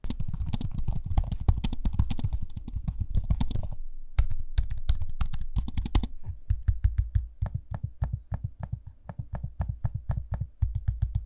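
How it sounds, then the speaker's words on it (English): Keys clatter on an ASUS ZenBook Duo laptop in quick, close, crisp bursts, then slow to sparser, evenly spaced taps and clicks from the keyboard and trackpad, quiet and dry with no voices. "Here's a quick audio sample of me using both the keyboard and the trackpad."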